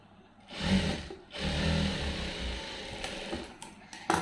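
A sewing machine stitching blouse lining fabric runs in two close bursts of rapid mechanical whirring, then goes quiet with scattered clicks and handling taps.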